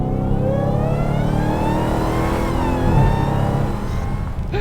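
A Dodge Challenger Hellcat Redeye's supercharged 6.2-litre Hemi V8 revs hard, engine pitch climbing and swelling with supercharger whine, loud and close, with no talk over it.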